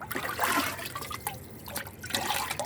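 Leftover rice-water paste, fermented for three days, poured and stirred into water as liquid plant fertiliser; close, uneven splashing and trickling in several bursts, no talking.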